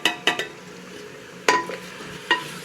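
Chopped onion and bell pepper fry in a pot over high heat, with several sharp spoon-against-metal clanks from stirring, spaced irregularly over a faint background sizzle.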